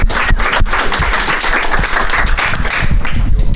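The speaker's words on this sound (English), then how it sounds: "Let's give a round of applause for Jari." Audience applause at a tech conference session, a steady dense patter of many hands clapping throughout, loud and close, with no talk over it.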